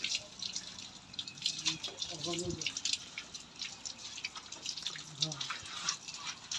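Tap water runs and drips as hands and feet are washed at a faucet. The splashing is faint, continuous and uneven, with voices audible in the background.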